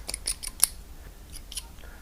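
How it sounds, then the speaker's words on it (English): Snippers cut plastic parts off a parts tree for a Yokomo RO2.0 RC kit. Several sharp, close clicks and snaps come in an uneven run, one louder crack standing out, with no speech. "Got to cut these ones off the parts tree. Got my 9-step snippers in there"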